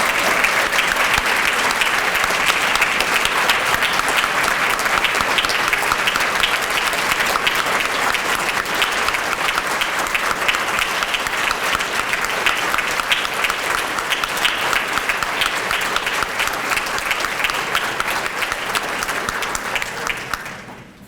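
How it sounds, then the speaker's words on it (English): Banquet audience at an academic excellence event gives the scholars sustained, dense applause, loud and even for about twenty seconds before tapering off at the end. "Would you please join me in giving all of our scholars a round of applause?"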